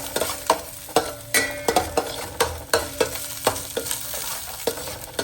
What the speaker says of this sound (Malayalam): ഇത് ചെറുതായിട്ടൊന്ന് മങ്ങി വരുന്നിടം വരെ നമ്മളൊന്ന് ഇളക്കി കൊടുക്കുക